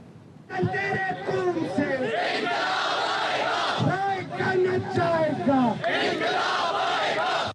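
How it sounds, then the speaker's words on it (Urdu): A street protest crowd in Karachi chanting slogans, many voices shouting together in loud repeated rhythmic bursts close by, continuous for several seconds. "شہر کے خراب انفراسٹرکچر کے خلاف بھی نعرے بازی کی گئی"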